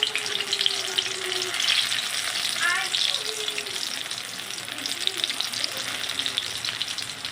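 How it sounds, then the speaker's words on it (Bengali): Potato chops fry in a pan of hot oil, giving a loud, continuous, close-up sizzle and crackle that holds steady throughout. "আজকে দুটো চপ ভাজছি"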